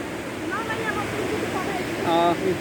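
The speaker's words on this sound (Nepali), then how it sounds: "बर्खा लागिसकेको छ, एकदमै जोडले खोला बढिरहेको छ।" A monsoon-swollen river rushes in a steady, loud roar close by, with a person talking over it.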